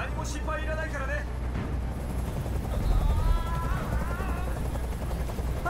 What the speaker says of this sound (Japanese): あのヘリコプターをどこかにやってくれ